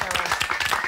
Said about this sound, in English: All right, big round of applause for Ricky.